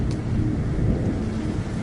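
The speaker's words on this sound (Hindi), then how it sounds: "तेज हवाएं और बारिश के बीच" Steady roar of heavy rain and strong wind from a thunderstorm, a cartoon-style sound effect, continuous and loud with no voices.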